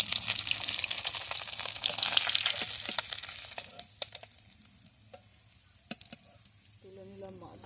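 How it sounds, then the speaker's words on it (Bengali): Fish sizzles in hot oil in a home kitchen for a fish curry with taro, cauliflower and potato, a bright frying hiss fading after a few seconds, followed by scattered clinks and faint running water. "এই মাছগুলোকে এত সুন্দর করে ভাজতে হবে"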